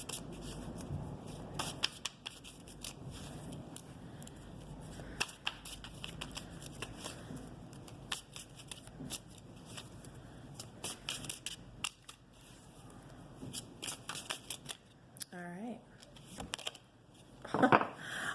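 Tarot cards are shuffled close up during a Pisces reading. Soft riffling and snapping bursts come in an irregular stream with quiet gaps between them.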